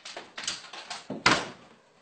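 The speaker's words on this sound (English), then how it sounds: "Shut the door." An indoor door is pushed shut in a home with a dog nearby, giving a few soft knocks and shuffles before one firmer thud, close and moderately loud, with no talking.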